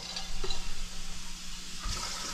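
Hands dunked and splashing in a bowl of water at a sushi-making table, a brief close slosh followed by a second swirl of water, with no talk.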